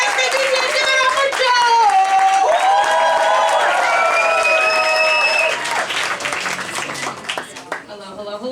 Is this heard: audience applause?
yes